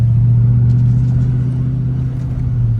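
A 1990 Ford Mustang SSP Fox body with long tube headers and Flowmaster exhausts sends out a loud, steady, deep exhaust rumble close by, with no clear revs.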